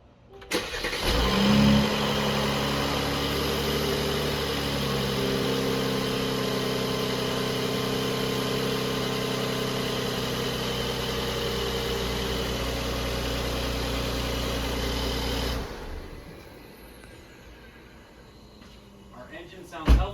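A 2019 Mercedes-Benz C43 AMG fires up with a loud start, then settles into a steady, rumbling idle for about fifteen seconds before the engine noise drops away to quieter background sound.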